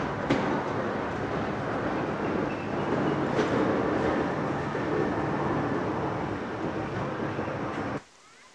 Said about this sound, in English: The train soon arrives in Weymouth, a busy station covered by a high canopy.